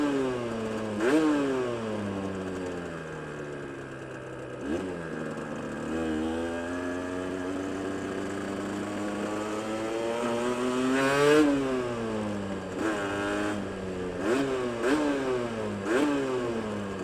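A motorcycle engine revs repeatedly while riding, its pitch sweeping up and down in a series of throttle blips and climbs, loud and close throughout with no talking.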